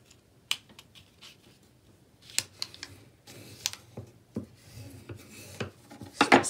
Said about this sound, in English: use your bone folder and just go over with the smooth side and not the edge